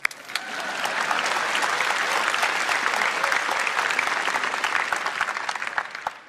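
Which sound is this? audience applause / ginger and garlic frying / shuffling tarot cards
audience applause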